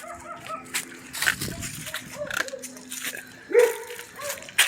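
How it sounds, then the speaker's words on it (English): Several dogs, including a Doberman, bark and yip excitedly in short irregular bursts at close range, with whimpers between barks and a man calling to them over the noise. "That dog's going nuts."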